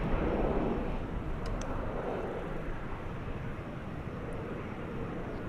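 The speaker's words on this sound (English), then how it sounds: "We have an American Eagle, flight 3489 going to Austin. It's an Embraer 175." An American Eagle Embraer 175 jet airliner at DFW Airport gives a broad, steady engine roar at a distance, loud and continuous, with no talk.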